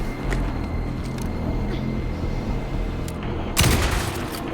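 Gunfire in the video game Alan Wake 2 rattles in a dense, continuous burst under game dialogue, ending with a louder sharp blast near the close.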